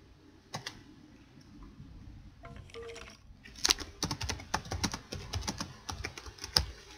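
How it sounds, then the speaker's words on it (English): Typing on a computer keyboard: a few isolated key taps, then a dense, rapid run of close clicking keystrokes that continues to the end, with no talking. "I am awful at typing."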